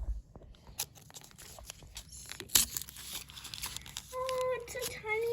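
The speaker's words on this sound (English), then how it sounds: "rip it open" Plastic toy packaging being torn open by hand, with crinkling and ripping bursts that come close and fairly loud, and a short higher-pitched rustle near the end.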